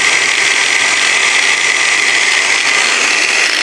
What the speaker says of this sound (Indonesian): kita akan ukur RPM Grinda Nagawa ini dengan menggunakan baterai JLD